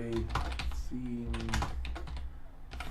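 Someone types a file name on a computer keyboard set to the American layout, producing a brisk, close run of key clicks with a faint hum underneath.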